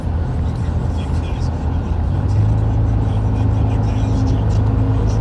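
Ford EcoBoost pickup pulling a 6,000 lb trailer up an incline around 2,000 RPM, a steady low engine drone with a firm hum that strengthens midway, voice heard over it.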